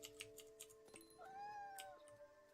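A cat in the video game What Remains of Edith Finch lets out a single drawn-out meow, clear and close, amid faint game ambience and soft ticking.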